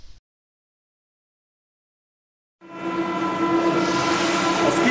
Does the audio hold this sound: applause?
no